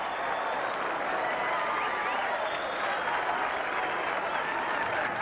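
Loud, steady crowd applause and cheering at a bowling alley after a strike, a tenth strike in a row at the 1978 PBA Long Island Open, sustained from start to finish with no voice above it.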